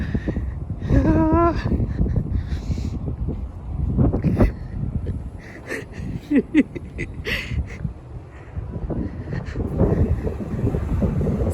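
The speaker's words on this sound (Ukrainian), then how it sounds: "Вітер прямо в нас дує." Steady wind rushing and buffeting against the microphone outdoors, with a few brief voices and clatter mixed in.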